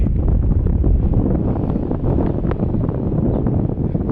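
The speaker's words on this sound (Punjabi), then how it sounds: "ਹਵਾ ਬਹੁਤ ਜ਼ਿਆਦਾ ਠੰਡੀ ਚੱਲ ਰਹੀ ਹੈ" Strong, cold mountain wind roars steadily into the microphone near Tso Moriri in Ladakh, a loud continuous buffeting rumble with gusty surges and no speech.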